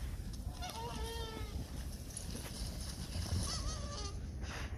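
Geese honk intermittently in the distance over a steady outdoor rumble, with several calls overlapping.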